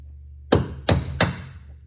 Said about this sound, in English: I got a chisel right here. See if I can chisel some of this crap off.